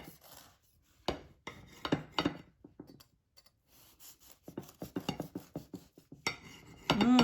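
A knife slicing warm homemade banana bread on a platter, a series of close rasping cuts and scrapes in uneven bursts, with quiet gaps between strokes and a louder scrape at the end.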